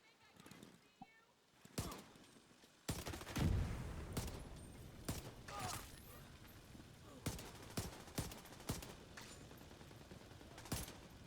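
A Liberty exotic pistol fires in The Division 2, sharp single shots spaced irregularly and then in a quicker run of cracks, close and punchy over faint background sound, with occasional talking.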